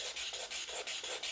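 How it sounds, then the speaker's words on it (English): Wet sandpaper rubs quickly back and forth over a plastic Xbox 360E console case, making a steady run of short rasping strokes, close and fairly loud, with no talking. "After I finish with sanding the case"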